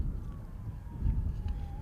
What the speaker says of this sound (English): Do I hear a siren? I do hear a siren.